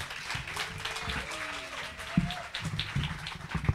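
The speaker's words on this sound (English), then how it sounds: "Let's give Sarah a big round of applause." Scattered audience applause for a speaker at a literary reading event, fairly soft and distant clapping with a few sharper nearby claps and faint murmuring underneath.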